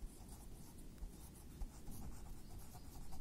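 Chalk or a marker scrapes across a classroom board during a maths lecture, a quiet continuous scratching with small taps and strokes and no voice over it.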